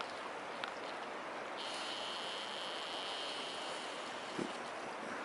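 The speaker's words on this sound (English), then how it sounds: "Nice little creek running under the bridge here" Small creek running beneath a bridge in an abandoned mountain village, a steady broadband rush of flowing water, moderately near and continuous, with a faint high-pitched tone joining partway through.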